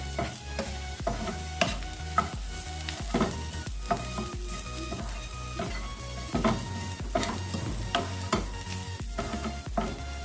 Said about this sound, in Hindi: चाट मसाला डाल देते हैं। इसको मिक्स कर देते हैं।